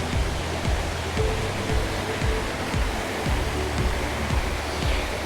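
Water from Lilydale Falls in Tasmania, running high after good rainfall, roars in a dense continuous wash, near and unbroken, with faint rhythmic low thumps beneath and nobody talking.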